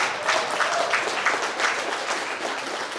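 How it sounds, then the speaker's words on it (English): Big round of applause for the culinary team at a company get-together, a dense wash of many hands clapping steadily and fairly loud for the full stretch, with no talk over it. "one more big round of applause for the culinary team for coming up with this today"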